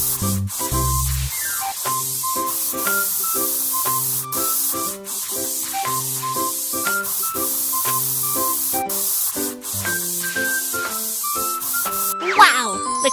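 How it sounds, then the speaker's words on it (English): Hissing spray paint coats a steel car plate in a cartoon car repair game, a steady airy spray running under bright, plinking background music. "Then spray the steel plate with paint."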